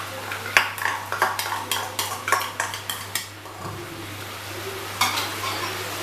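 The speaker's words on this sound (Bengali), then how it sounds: "আমি কাজু বাদাম এবং টক দই একসাথে আমি এই মশলার সাথে পেস্ট মানে ভালো করে মিশিয়ে নিচ্ছি।" Cashew paste and yogurt being stirred into masala in a pan for an egg kofta curry, with a quick series of close spoon clanks against the pan over a gentle sizzle, then quieter bubbling and a final scrape.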